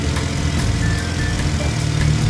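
A mini big rig truck engine drones steadily as it accelerates through the gears, loud and close for the whole short stretch, with no talk.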